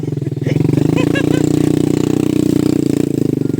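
A loud, steady motorcycle with an old but strong Honda engine, droning close by while riding, with a constant even engine note throughout.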